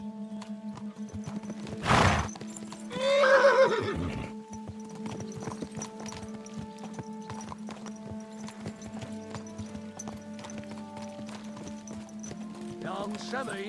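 Horses in Kingdom Come Deliverance II set off with a rider's company, their hooves clip-clopping steadily throughout, a loud neigh and a brief voice near the start, then continuous trotting hoofbeats over a low steady hum.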